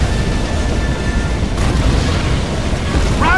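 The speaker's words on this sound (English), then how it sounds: "This facility will not survive the explosion." A large explosion destroys a facility in the video game The Saboteur, heard as a loud, sustained rumbling boom that fills the whole stretch with a sharper burst about halfway through.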